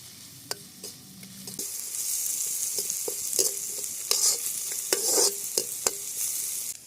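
Carrots and beans frying in oil for poha fried rice hiss and sizzle steadily in a pan, punctuated by sharp taps and scrapes of a stirring spoon, close and without voices.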